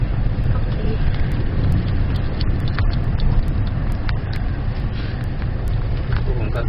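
An Acura MDX SH-AWD with the 3.7 engine climbs an off-road hill, its engine droning steadily under heavy wind and rumbling road noise, with faint clicks throughout.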